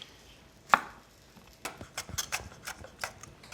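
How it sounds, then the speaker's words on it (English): Stems being pulled and cut from fresh serrano and jalapeno chiles in a kitchen, with one sharp snap followed by a run of small crisp clicks and taps, close and fairly quiet. "Removing the stems."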